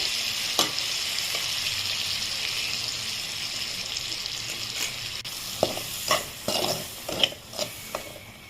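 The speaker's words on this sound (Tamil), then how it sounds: "இந்த தாளிப்பில் கொஞ்சம் சாம்பாரை எடுத்து போட்டு நல்லா கிண்டி விட்டுட்டு" Sambar being stirred into a hot tempering in a pan for homestyle radish sambar, with a steady sizzling hiss, then several louder bursts of scraping and spluttering toward the end, no talking.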